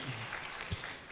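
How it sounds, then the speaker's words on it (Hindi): Brief burst of applause for an honoree at an industry leadership conclave in India, a short wash of clapping from the audience without speech. "जोरदार तालियां एक बार मनोज जी के लिए"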